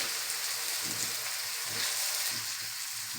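Finely chopped onions from two medium onions frying over raised heat in hot oil with cumin, garlic and ginger, a steady close sizzle with soft stirring scrapes throughout.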